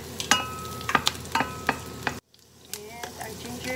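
Garlic sizzling in a pan while being stirred, with repeated clinks of a utensil against the pan over a steady frying hiss, then a short gap before softer sizzling resumes.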